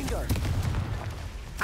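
Confringo blasting spell from Hogwarts Legacy hitting rocks, a short booming burst beneath a voice calling out spell names, with a muffled low rumble through most of the moment.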